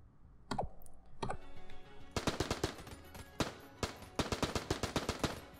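Tommy Gun in Enter the Gungeon, a couple of isolated shots followed by rapid bursts of crisp, clicky automatic fire in uneven rhythm, fairly close and clear.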